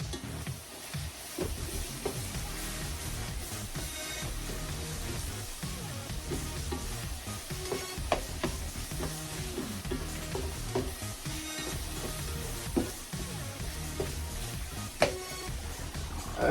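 A burger fries in a pan with a steady, loud sizzle, while a utensil scrapes and stirs now and then, giving occasional clicks and knocks over the continuous hiss.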